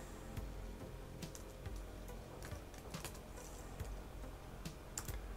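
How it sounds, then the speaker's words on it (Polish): A name is typed on a Lenovo G505 laptop keyboard, a quick, uneven run of light key clicks and taps with short pauses between bursts, close and fairly quiet. "Ja sobie wpiszę swoje imię."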